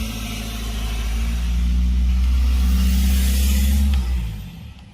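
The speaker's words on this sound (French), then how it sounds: "Il a une petite voiture et il fait du bruit." A small car revving outside a shop, the engine rising into a loud sustained roar for a couple of seconds, then dropping off sharply as it cuts back, close and alone without talk.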